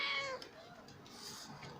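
A small cat gives a short, high meow at the start, close by, followed by quiet room sound.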